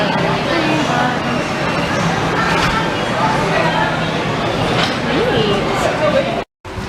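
Train at Disney's Animal Kingdom rumbles steadily with continuous rail noise and faint clatter, while people talk over it nearby, then a brief cut to silence near the end.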